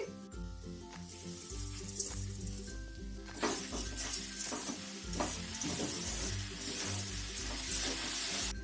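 Steady stirring of boiled carrots and 200 grams of sugar in a pan, with a continuous scraping, sizzling texture and occasional metallic clinks, close and fairly loud, under music.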